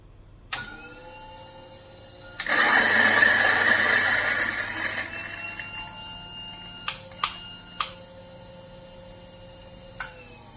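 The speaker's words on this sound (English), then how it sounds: "Let's switch on the grinder." A Fuji Royal electric coffee mill with a Ghost Burr grinds coffee beans in a loud, harsh burst of a few seconds that gradually fades. A few sharp clicks and knocks follow in the quiet afterward.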